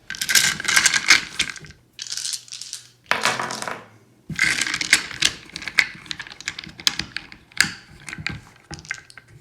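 Many dice rattling and clattering as they are tossed onto a board in a World War II strategy board game, in several loud bursts of dense clicking with short pauses between throws.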